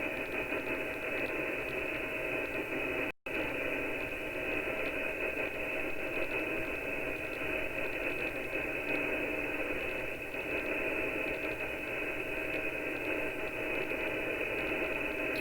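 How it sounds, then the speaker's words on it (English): Radio noise from Jupiter picked up by a DIY radio telescope, a steady loud hiss and static crackle with fine rapid texture, continuous throughout apart from one brief dropout. "they're all lightning strikes coming from Jupiter, bouncing off Europa"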